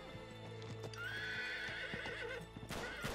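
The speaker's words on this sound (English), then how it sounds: "I'm on a horse!" A horse in the video game Uncharted 3 gives a loud, drawn-out whinny over steady clip-clopping hooves, close up and without talk.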